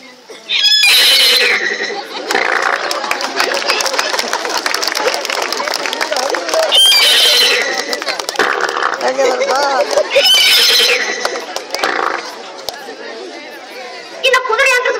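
A voice imitates a horse, giving three loud, shrill whinnying bursts spread through nonstop comic speech and background chatter.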